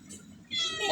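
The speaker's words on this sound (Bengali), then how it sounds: "এই যে আমাদের বিড়াল চলে আসছে" A pet cat in a small shop gives a short, close meow that rises at the end after a brief low murmur.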